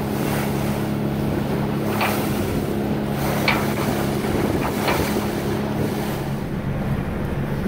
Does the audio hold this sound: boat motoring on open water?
yes